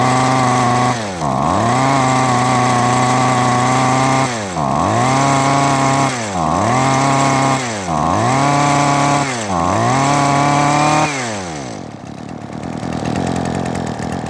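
A Husqvarna 128R brush cutter's small two-stroke engine idles nearby, then revs up repeatedly in short bursts, each rise falling back to idle, ending with a rough drop-off.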